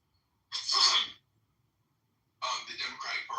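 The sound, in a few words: sneeze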